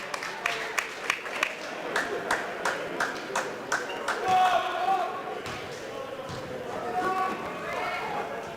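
Crowd noise at a high school boys' varsity basketball game, Harwood at Spaulding, with scattered clapping, repeated ball bounces and sneaker squeaks echoing in the gym under steady murmur and a commentator's voice.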